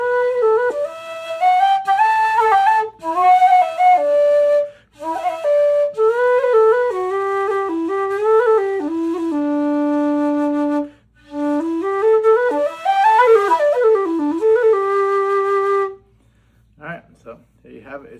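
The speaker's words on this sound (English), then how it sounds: "It's a very cool whistle. This is made out of black PVC and Delrin." A low D whistle of black PVC and Delrin by Nick Metcalf, with a narrow, high back-pressure windway, plays a solo melody of sustained breathy notes with slides and ornaments for about sixteen seconds before breaking off into a few short notes.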